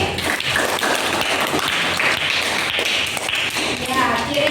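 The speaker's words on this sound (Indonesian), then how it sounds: "Nah, sekali tepuk tangan untuk Willy." Pupils in a school chemistry lesson clap for a classmate, producing irregular, uneven claps with distinct taps and thumps rather than a smooth roar, while people talk faintly underneath.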